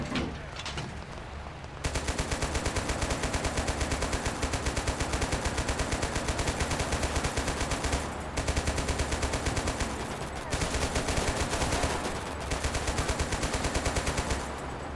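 Sustained automatic gunfire from a battle in the strategy game Total Conflict: Resistance, loud and dense rapid bursts running almost continuously after a quieter opening second, with brief dips between volleys.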